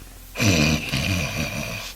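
A loud, rasping snore read aloud in a Mr. Men audiobook, one long drawn-out breath that rumbles and then trails off, close and alone.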